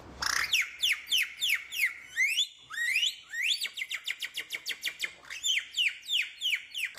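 A handheld bird call mimicking device, played by a beginner, gives a quick series of bright chirping whistles with rising and falling sweeps, repeated in lively bursts of close, clear tweets with no voices over them.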